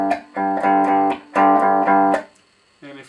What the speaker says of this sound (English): So, power chord is the combination of two notes on two strings.